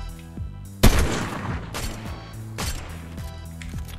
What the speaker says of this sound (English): Just doing bits with the DMR,